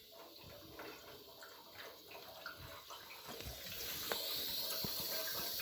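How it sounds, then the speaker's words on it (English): Water rushes steadily into a household heating feed tank, the flow growing louder and fuller toward the end, with small splashes and knocks throughout. "We can hear water coming in."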